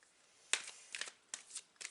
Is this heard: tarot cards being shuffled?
yes